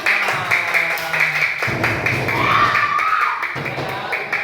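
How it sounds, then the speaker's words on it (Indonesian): Primary schoolchildren in a classroom clapping together, a lively spread of claps with thumps and excited voices mixed in, fairly close and continuous. "Tepuk tangan dong, tepuk tangan."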